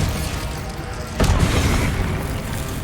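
Confringo explosive spell blast in the Hogwarts Legacy video game, a single sudden booming burst about a second in, followed by a rumbling tail over steady background game sound.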